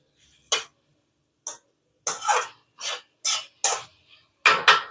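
Potatoes mashed with a ladle in a cooking pan, seven or eight short scraping, clinking strokes in an irregular rhythm, close and fairly clear, with no voices.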